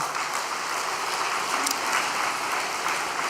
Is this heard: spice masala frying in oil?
no